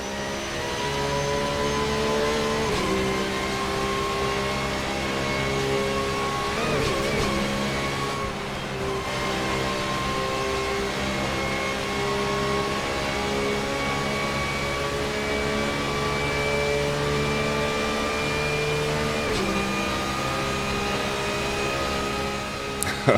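A Porsche GT3 race car in Assetto Corsa on the Nordschleife sends out a steady, harmonic engine drone. The pitch climbs and drops at a few gear changes, with no talking over it.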